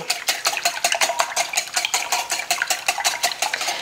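Homemade pancake batter being whisked in a bowl, a steady fast rhythm of utensil scraping and clinking against the bowl sides, close and continuous with no talk.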